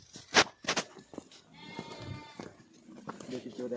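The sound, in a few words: sheep bleating in a Himachal herd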